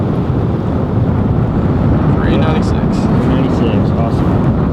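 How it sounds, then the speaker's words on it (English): Strong wind roars steadily over an open lake during a bass fishing trip, buffeting the microphone with a broad, constant rumble that never lets up. "Wind's blowing like crazy"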